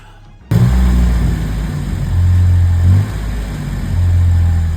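A Jeep engine rumbles to life after a throttle body cleaning. It revs in two or three loud, deep surges that fall back to a steady idle between them, heard close and alone.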